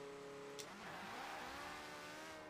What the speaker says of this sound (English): the Porsche 918 can do 0 to 60 faster than every other car in the game, fully upgraded